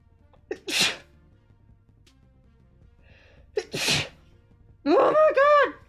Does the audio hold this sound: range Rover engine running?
no